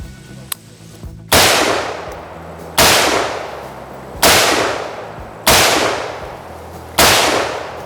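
Five loud, sharp AR-15 rifle shots at an outdoor shooting range, evenly spaced about 1.4 seconds apart, each a hard crack followed by a decaying echo, with no talk over them.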